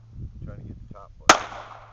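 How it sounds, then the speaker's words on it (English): A single sharp, loud gunshot cracks close by and decays in a short tail, following a quieter stretch of low background noise. "Not bad, Randy. Yeah, that's it. That's a nice gun"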